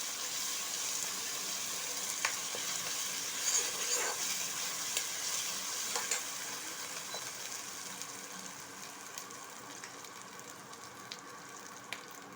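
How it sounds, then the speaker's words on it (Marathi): Ginger garlic paste sautéing in oil with browned onions for an egg curry, a gentle continuous sizzle broken by light clicks and scrapes of a spoon stirring the pan. "आलं लसूण पेस्ट परतून घेतल्यावर"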